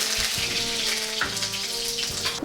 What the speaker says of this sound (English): Put in some oil, add some mustard seeds and cumin, some curry leaves